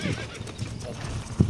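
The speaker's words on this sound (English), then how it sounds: "Break the stallion. Solo horse breaking. Stop the horse." A stallion being broken in the Wild West game Red Dead Redemption, with horse snorts and whinnies, soft hoof clops and a louder snort burst near the end, all close by.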